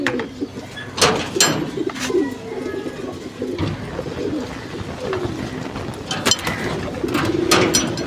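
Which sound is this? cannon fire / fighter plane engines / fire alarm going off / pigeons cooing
pigeons cooing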